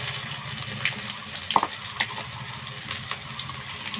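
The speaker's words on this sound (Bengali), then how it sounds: "সম্পূর্ণভাবে গোটা পেঁয়াজগুলো একটু নাড়াচাড়া করছি" Whole onions frying in a pan and being stirred during chicken curry cooking, a steady hissing sizzle with occasional scrapes and clinks nearby, no talk.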